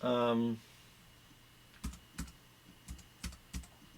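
Computer keyboard typing a folder name: a short burst of voice, then a few crisp, separate key clicks spaced irregularly, close and fairly quiet.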